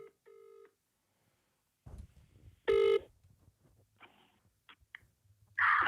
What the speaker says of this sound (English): let me get Kevin on the phone